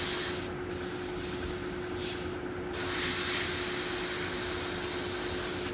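An airbrush sprays paint over the edge of a stencil onto a skull, a continuous airy hiss with a steady compressor hum beneath, briefly cut off twice before resuming.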